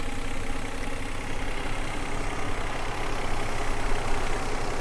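A hail-damaged Cadillac CTS engine idles smoothly and quietly in a freshly cleaned engine bay, giving a steady, even hum recorded up close with no voices.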